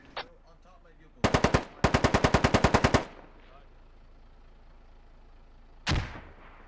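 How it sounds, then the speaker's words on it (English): Bursts of automatic gunfire from an MRAP vehicle's mounted gun in the military shooter game Squad: a short burst, a pause, then a longer rapid string of loud shots, followed by one more shot after a stretch of quiet. "they're using the other MRAP to shoot at this MRAP"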